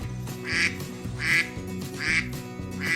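Duck quacking in a farm-animal sounds lesson, four loud, evenly spaced quacks over a low background tone.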